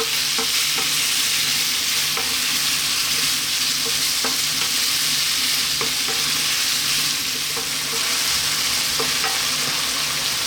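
Constant loud sizzling of lamb frying in a pan over above-medium heat, a dense crackling hiss with occasional clicks of stirring, no talking.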